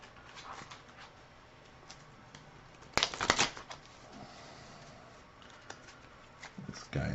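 A deck of Marvel Champions cards is shuffled by hand on a tabletop, a burst of riffling near the middle with lighter card handling and taps before and after, close and fairly quiet.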